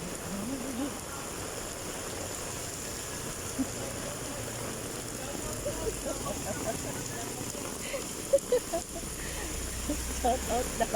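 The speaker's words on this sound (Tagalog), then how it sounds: "Sobrang lakas ng ulan." Heavy rain pours steadily in a dense, constant hiss on a flooded city street, with faint voices and occasional knocks underneath.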